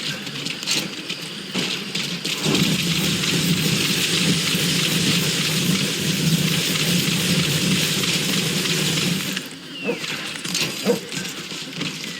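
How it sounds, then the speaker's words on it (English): Steady heavy rain in the video game Metal Gear Solid V: The Phantom Pain, a dense continuous hiss of downpour with faint rumbles, easing briefly near the end. "Rain approaching."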